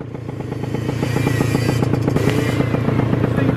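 A moped engine bogs and labours while ridden offroad through a forest, a loud, steady low chugging drone with a rapid pulsing rhythm and rattly clatter, held close throughout.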